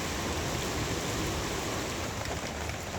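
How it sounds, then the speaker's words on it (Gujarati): Heavy rain pours steadily in Bhavnagar during a thunderstorm with strong wind, a dense, even hiss of downpour that stays loud and unbroken throughout. "ગાજવીજ સાથે વીજળીના કડાકા ભડાકા સાથે જે વરસાદ વરસ્યો"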